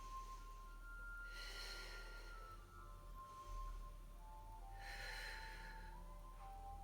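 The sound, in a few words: breathing in and out during a Pilates exercise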